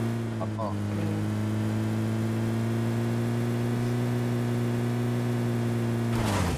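A vehicle engine in a video game drones at a steady, even pitch while being driven, then cuts off abruptly near the end.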